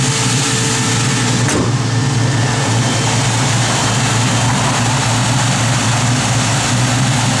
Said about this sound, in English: You can hear the electric fans on.